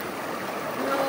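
A clear river stream flows with a steady, broadband rushing wash, continuous and fairly close, with no distinct splashes.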